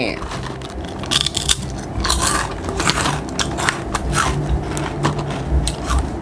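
Crispy baked salmon skin snack crunches close up as someone bites and chews, with repeated sharp crackling bites over the mouth sounds, while someone talks between mouthfuls.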